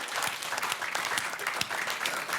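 Studio audience applause on a French TV show, steady crowded clapping at moderate level filling the whole moment without speech on top.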